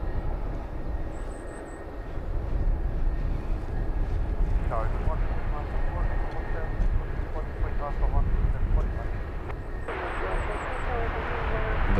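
A Wizz Air airliner departs London Luton Airport, its engines a broad distant roar that swells steadily, with a voice talking over it and birds chirping faintly in the background.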